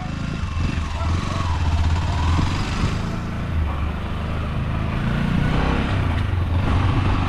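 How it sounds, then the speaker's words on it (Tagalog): Motorcycle engine running steadily at close range with a continuous low rumble that swells slightly, while people talk over it. "natuwa lang ako sa motor"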